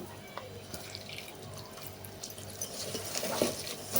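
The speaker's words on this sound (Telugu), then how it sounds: "ఇప్పుడు కొంచెం వాటర్ పోసుకొని కలుపుకున్నాం" Water poured into a bowl of sliced onion batter for onion pakoda and mixed by hand, a wet dripping, splashing sound with soft squelches, close and steady throughout.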